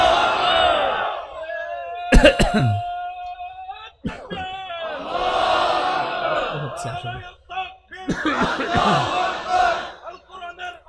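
Large crowd at an Islamic religious gathering roars a takbir response in loud, repeated collective shouts, with brief pauses and a lone voice between the swells.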